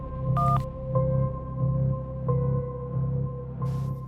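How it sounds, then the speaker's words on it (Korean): A telephone call is placed: a short burst of keypad dialing tone comes first, then evenly spaced ringing pulses repeat about every two-thirds of a second, close and clear with no voices. "그리고 바로 다음 날 내연녀는 아내를 만나기 전에 그 남자에게 전화를 합니다."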